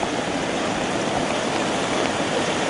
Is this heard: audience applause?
no